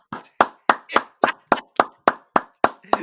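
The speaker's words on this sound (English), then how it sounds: "LeeJay standing up and clapping." One person claps by hand, about ten sharp, close claps in an even, steady rhythm with short silences between them and no voices.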